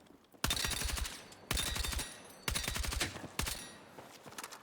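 An automatic weapon in Battlefield 6 fires four loud, rapid bursts close by, each a dense rattle of shots lasting under a second, separated by short pauses with a low tail between them.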